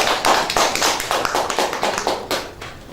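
An audience at a public discussion on contemporary Bali art gives brief applause: a short, steady run of bright claps, fairly loud and close, fading slightly at the end.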